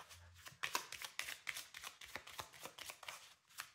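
Petit Lenormand oracle cards are shuffled and cut by hand, giving a soft run of papery flicks and riffles at an uneven rhythm, close and fairly quiet, with no speech.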